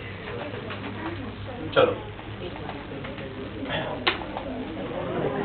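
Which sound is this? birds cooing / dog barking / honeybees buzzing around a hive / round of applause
birds cooing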